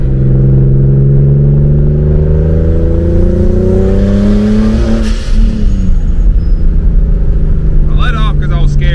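A turbocharged BMW E36 with an 8-pound wastegate spring accelerating hard under boost, the loud engine note climbing steadily close by, then dropping with a gear change and hissing turbo noise near the end.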